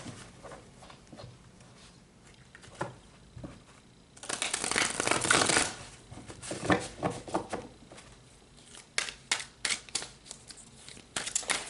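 Tarot cards being shuffled close by, papery riffles and soft slaps in irregular bursts with a dense flurry midway and scattered flicks before and after, fairly quiet with no voice.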